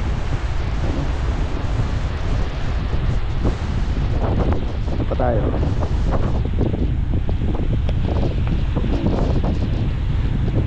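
Strong typhoon wind roars into the microphone nonstop, a loud buffeting rumble with a brief voice faintly underneath.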